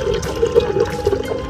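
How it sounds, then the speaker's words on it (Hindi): A small motor pumps water from above into a tank holding goldfish and turtles, making a steady, close splashing and gurgling flow with no pauses. "ये मोटर पानी लगा रही है ऊपर से"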